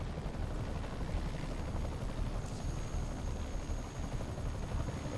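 A helicopter in the video game Spider-Man (PS4) drones steadily nearby, its rotor chopping in a constant, rumbling throb that fills the whole stretch.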